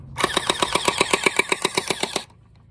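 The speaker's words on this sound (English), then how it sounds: "He's shooting his gun." A cheap splatter ball gel blaster toy gun fires nearby in one rapid burst of about fifteen evenly spaced, sharp pops. The burst lasts roughly two seconds and is then cut off into quiet.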